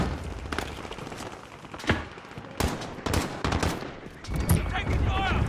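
Gunfire bursts in a Call of Duty Warzone match, with rapid automatic shots and sharp single cracks scattered across the clip at moderate loudness, mixed with game sounds and a brief voice.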